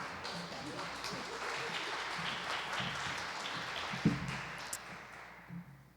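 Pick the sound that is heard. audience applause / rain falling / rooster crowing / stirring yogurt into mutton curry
audience applause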